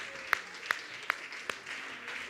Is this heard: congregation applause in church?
yes